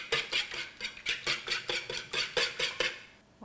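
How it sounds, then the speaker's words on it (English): Eggs and a teaspoon of vanilla extract whisked in a bowl for almond biscotti batter, with rhythmic scraping strokes of the whisk against the bowl repeating steadily about three times per second, close and clear with no talking. "And this will whisk."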